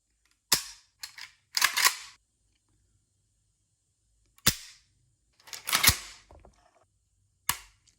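Several sharp, crisp mechanical trigger reset clicks from a Century Zastava N-PAP AK-47 rifle, some single and some in quick pairs, spaced apart by silence and heard up close.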